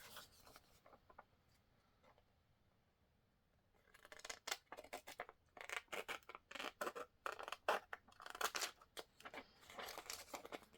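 Scissors cut through a paper file folder in quick, crisp snips and rustles. The cutting starts after a few quiet seconds and is close and fairly soft.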